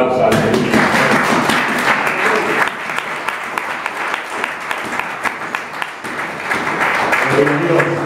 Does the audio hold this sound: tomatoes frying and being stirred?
no